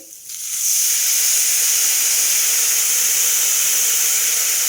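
Tamarind water poured into a hot pan sets off a sudden loud hiss of steam that swells within a second and holds steady and close until the end, with no talk.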